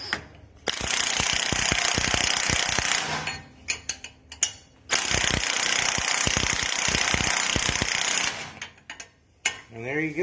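An impact wrench hammers at a hub bearing nut, loud rattling bursts of about two to three seconds each, separated by short pauses and clicks, close to the tool.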